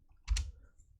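Keystrokes on a computer keyboard as a terminal command is entered, a short cluster of close, crisp clicks around a third of a second in, then quiet.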